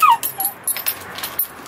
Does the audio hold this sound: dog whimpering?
yes